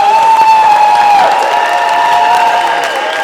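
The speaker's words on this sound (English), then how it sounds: "let's give all of our filmmakers a big round of applause" A film festival Q&A audience applauds the filmmakers, a loud, continuous round of clapping with a steady tonal hum running beneath it throughout.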